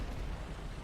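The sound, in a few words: tank ammunition explosion in the video game War Thunder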